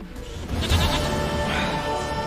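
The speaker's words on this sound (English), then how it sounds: "Goat of mine, dearest, sweetest goat." Goat bleating in The Witcher 3 game, a loud, quavering bleat rising over a steady game background with no voices.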